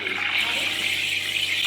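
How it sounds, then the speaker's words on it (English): Steam wand on a coffee machine frothing milk for cappuccino or latte, drawing in air: a steady, close hiss with a bright rushing, sputtering edge that holds evenly without pause. "you can see the jets of steam firing through the water"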